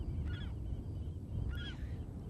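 Nesting seabirds on the Channel Islands give two short honking calls, a moment apart, against a steady windy outdoor background.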